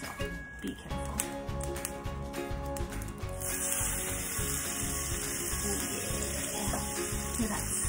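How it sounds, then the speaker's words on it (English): Hot oil crackles and sizzles in a pan, a continuous hiss with small pops, growing denser partway through. "I just wet my fingers, I flick it, and get a little sizzle. That means oil's hot."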